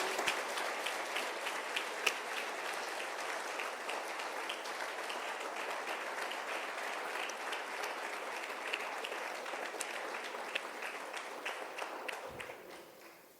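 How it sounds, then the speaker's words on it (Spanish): Church congregation applauding during a sermon, a dense, steady wash of many hands clapping for about twelve seconds before fading out at the end. "Ahora sí puede aplaudir."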